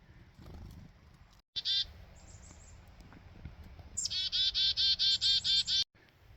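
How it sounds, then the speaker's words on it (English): Wild chickadees call outdoors near scattered seeds, a short bright burst followed by a rapid series of about ten repeated whistled notes, fairly close, over a low background rumble. "There's a whole lot of birds here though."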